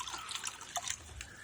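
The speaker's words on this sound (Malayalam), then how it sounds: "അപ്പം നമുക്കിപ്പോൾ വെള്ളം ഒഴിക്കാം." Clean well water is poured into a container meant for fish, a faint, soft trickle and splash with a few small drips, heard close and quiet.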